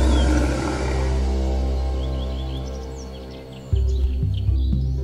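A big cat of the genus Panthera, a lion or tiger type, gives a deep, drawn-out roar that rumbles steadily for several seconds and then swells again in heavier bursts near the end. It is loud and close, with no talk.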